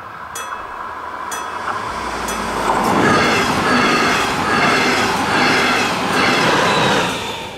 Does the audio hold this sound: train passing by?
yes